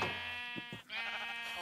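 Sheep bleating in Minecraft, a harmonic, wavering blocky-game bleat that fills most of the moment, loud and close, with a brief dip midway before the cry resumes.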